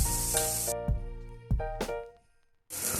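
Oil sizzles in short bursts with faint stirring clinks between them as sardines fry in a pan, close by and fairly quiet, with musical tones playing over it.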